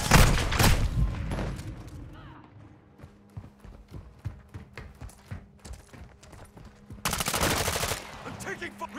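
Video game gunfire: loud, rapid bursts of shots open the sequence and return near the end, with scattered quieter single shots and clicks in the gap between.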